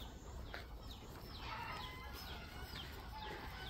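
Farm chickens roosting up in the trees in late afternoon, faint scattered clucks and chirps sounding from a distance over a steady background hiss.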